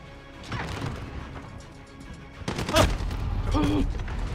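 A loud crash-like burst of gunfire from SWAT and FBI units in Call of Duty: Modern Warfare, heavy and close, over a steady game background, with a shorter clatter following it.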